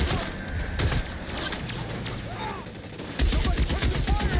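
Gunfire in the video game L.A. Noire: sharp, scattered shots crack through a busy mix of game sound, with a denser burst of firing near the end.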